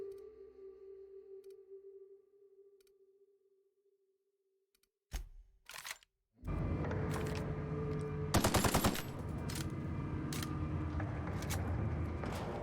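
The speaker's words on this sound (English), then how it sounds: "That is a heavy gun. Doesn't shoot quite as much though." Heavy gun firing in the video game The Outer Worlds: after a quiet stretch with a low hum, short bursts of loud shots crack out, then a dense, sustained volley of rapid fire continues to the end.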